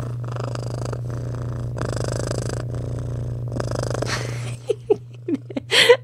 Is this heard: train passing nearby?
no